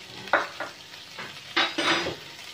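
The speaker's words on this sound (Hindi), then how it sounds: "इसको अच्छी तरह भून लें।" Chicken spring roll filling being stirred and fried in a pan with spices, giving soft intermittent scraping stir strokes over a low sizzle, close and fairly quiet, with no talking.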